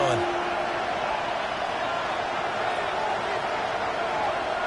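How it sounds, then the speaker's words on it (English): Stadium crowd at Arrowhead roaring in an American football video game with the Chiefs, a dense, steady wall of crowd noise that stays loud and unbroken from start to finish. "The Arrowhead crowd in full roar."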